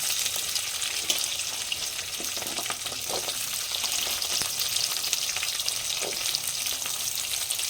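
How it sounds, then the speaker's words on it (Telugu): Small onions and garlic frying in oil for a village-style katla fish curry, a constant close sizzle with occasional stirring clinks and scrapes, no talking. "బాగా గోల్డెన్ బ్రౌన్ వచ్చేంత వరకు కొంచెం సేపు వేయించుకుందాము"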